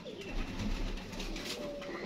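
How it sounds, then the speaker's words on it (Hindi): A Teddy pigeon on a rooftop coos softly in low, rolling notes, fairly close and alone against a quiet background hum. "ये कबूतर, ये भी जी इनका परिंदा है माशाल्लाह, बहुत अच्छा परिंदा है। टैडी कबूतर है जिसे कहते हैं टैडी।"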